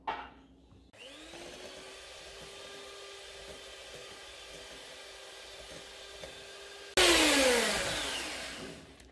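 An electric mixer whirs steadily through a roasted sesame and peanut mixture, a continuous motor drone that shifts up to a louder, higher speed near the end.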